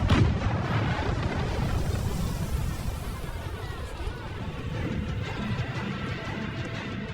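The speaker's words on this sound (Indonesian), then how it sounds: "dia pun langsung mengajak beberapa anggotanya untuk meledakkan jembatan produksi milik Douglas" An explosion in a film destroys a production bridge, heard as a sustained, dense rumbling blast that stays fairly steady throughout, with no talking.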